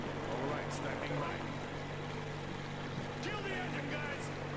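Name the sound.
boat engine running in Metro Exodus video game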